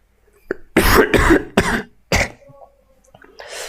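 Several harsh coughs from a person with a cold and fever come in quick succession, close and loud, followed by a faint throaty sound.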